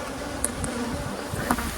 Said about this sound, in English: I'm going to shake the bees off here